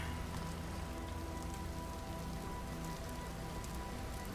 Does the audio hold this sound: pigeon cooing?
no